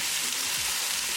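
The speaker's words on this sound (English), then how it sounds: "We're going to cook garlic until the garlicky flavor is gone." Garlic, ginger and green chili fry in a pan of hot oil for a lamb curry, giving a steady close sizzle that runs the whole short stretch without pause.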